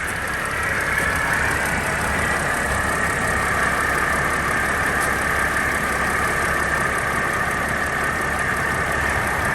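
A Sprinter van engine idles steadily with a dense, constant mechanical drone and faint knocking texture, close and loud throughout with no talk.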